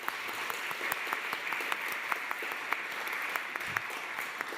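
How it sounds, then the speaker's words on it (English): Applause from a small gathering thanking the IT and sound staff at a wrap-up session, brisk steady clapping at moderate distance, fairly faint and continuous throughout. "big round of applause for them"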